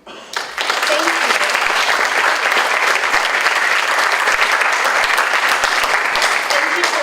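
Loud, sustained clapping from a school speech contest audience starts abruptly and continues evenly to the end, dense and without talk, honoring the contest judges.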